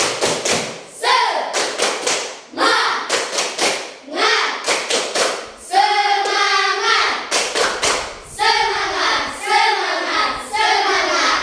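An elementary class performing the tepuk semangat clapping routine: sharp, rhythmic bursts of many hands clapping in patterned groups, with children's voices chanting between and over the claps, loud and close.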